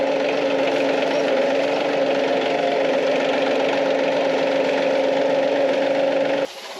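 A tractor engine idles steadily and loudly on a farm, a constant droning hum with strong low harmonics that holds unchanged before dropping off abruptly at the very end.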